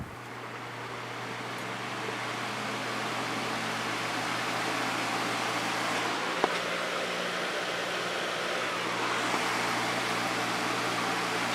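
A Patton fan with a 1.25 amp PSC motor runs on low, giving a faint, steady whoosh of moving air with a low hum beneath it, continuous throughout with no voices.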